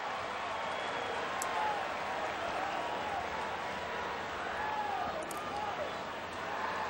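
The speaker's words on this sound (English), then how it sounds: "Crowd getting into it." A crowd at a Cubs baseball stadium cheers and applauds after a strikeout. The roar is broad and moderately distant, holding steady under a broadcaster's talk.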